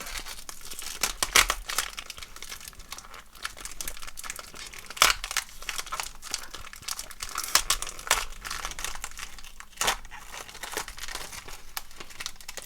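Old 1990s sports card packs are torn open close up: dense foil-wrapper crinkling with sharp tearing bursts scattered throughout, and no talk.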